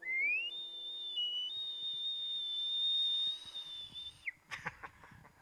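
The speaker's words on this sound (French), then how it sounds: "super chiant ce sifflet." A sustained, high, steady whistle is blown during a DJ set, held for about four seconds before cutting off, then gives way to scattered clicks and bumps.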